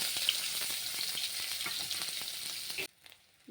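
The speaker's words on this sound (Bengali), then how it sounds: "নাড়াচাড়া করে পেঁয়াজ লাল করে ভেজে নিয়েছি" Chopped onions and bay leaves sizzle steadily in a little oil as they are stirred for a prawn and ash gourd ghonto, with scraping strokes through the hiss until the frying cuts off abruptly near the end.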